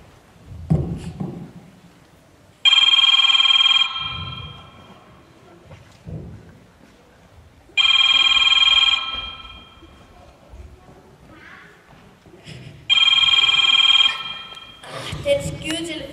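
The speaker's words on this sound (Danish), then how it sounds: "Den skide telefon, lige midt i nyhederne" An old telephone bell rings three times, each ring a loud burst of about a second and a half separated by long gaps, with a muffled thunderstorm and rain rumbling underneath and a voice briefly near the end.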